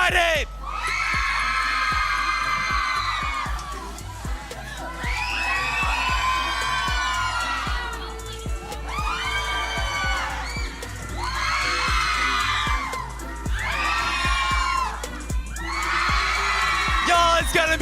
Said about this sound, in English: When I lift up this arm, I want this side to scream